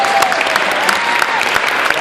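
Audience applause at a Solidarité Restigouche benefit show, a loud, dense round of clapping from a crowd, steady and continuous with scattered sharper claps and some voices mixed in.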